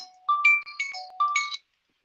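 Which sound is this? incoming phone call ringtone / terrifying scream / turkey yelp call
incoming phone call ringtone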